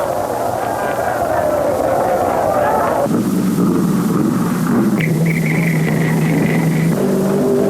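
A diesel-powered race car at the 1952 Indianapolis 500 making a record lap: a loud, continuous engine drone whose pitch shifts abruptly up and down as it passes, with an old film-soundtrack quality.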